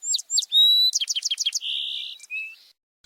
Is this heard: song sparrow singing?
yes